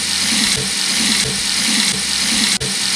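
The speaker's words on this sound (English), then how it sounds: "this faucet with low usage has a much better water flow" Water runs steadily from a low-usage bathroom sink faucet on a vanity, a close, continuous hiss with slight pulsing that carries through the whole short stretch.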